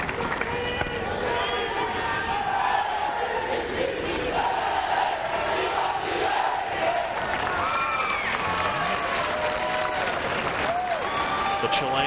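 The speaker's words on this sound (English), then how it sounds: "The Chileans in the crowd getting vocal." Chilean fans in a tennis stadium crowd during the 2003 Washington semifinal between Fernando Gonzalez and Andre Agassi, clapping, chanting and shouting in a loud, lively mix, with a commentator's voice over it.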